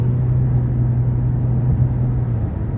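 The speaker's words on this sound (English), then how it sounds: "And that exhaust just sounds so good." A 2023 Toyota Camry TRD V6 cruises down the interstate, its exhaust a steady low drone and hum with a constant tone, heard from inside the cabin with no voices.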